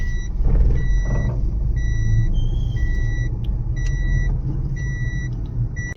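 A family's car pulls in, its engine rumbling steadily and close while a repeating electronic beep pulses in a regular on-off pattern above it throughout.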